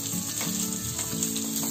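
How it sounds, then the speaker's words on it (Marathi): Onion and green chilli hit a pan of garlic and cumin already fried red, giving a loud, steady sizzle that keeps a constant crackling hiss throughout, close and alone with no talk. "आता त्याच्यामध्ये आपल्याला कांदा आणि मिरची टाकते."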